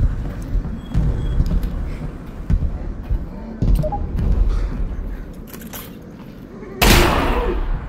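Gunfire in the VR video game Half-Life: Alyx comes as scattered single sharp shots spread across several seconds, with a louder burst near the end. Game sounds and talk fill the gaps between the shots.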